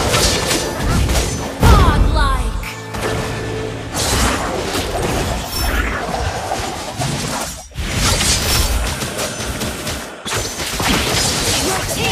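Turret destruction in a mobile MOBA, heard as a heavy crash and shattering burst amid continuous loud battle effects, whooshes and thuds, with game voice lines and a spoken announcement over the din.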